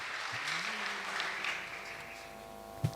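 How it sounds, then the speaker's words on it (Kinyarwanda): A church congregation claps together during a sermon, a continuous moderately soft wash of applause that holds steady for a few seconds before tapering. "Twakomeye Imana amashyi"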